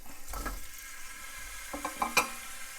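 Chunks of sirloin beef hit a hot pan with soft sizzling, a few scrapes and clinks of a utensil stirring, quiet and close with no talking.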